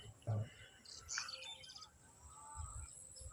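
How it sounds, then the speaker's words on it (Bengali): Various birds chirp in a tea garden in Sylhet, with faint, scattered tweets and calls over a quiet outdoor background, a few brief brighter chirps standing out. "পাখির বিভিন্ন ধরনের ডাক সত্যিই মনোমুগ্ধকর।"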